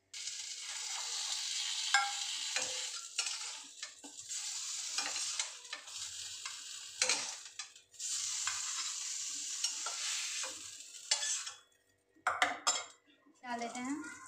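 Pakoras frying with garlic in a pan, sizzling oil under repeated scraping and stirring of a metal utensil against the pan, with clinks and a few pauses, close and continuous.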